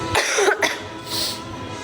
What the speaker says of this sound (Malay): Saya batuk juga ni nak terkencing.